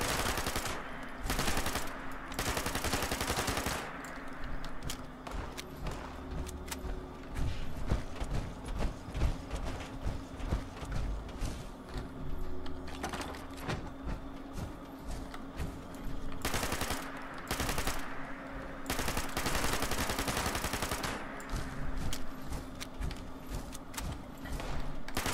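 Bursts of automatic gunfire and scattered single shots from Fallout 76 crackle through a long stretch, loud and dense in clusters with brief pauses between volleys, no talk over it.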